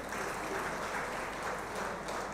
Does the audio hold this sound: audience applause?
yes